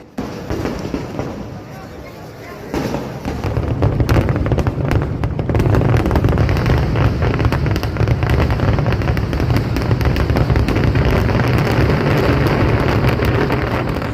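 Paramekkavu's fireworks at Thrissur Pooram in Kerala, heard from within a crowd: after quieter murmuring, a dense, continuous roar of bursts and cracks builds and stays loud throughout, with voices mixed underneath.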